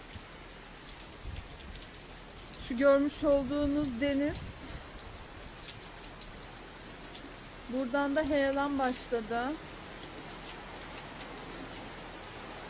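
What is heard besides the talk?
heavy rain falling during flood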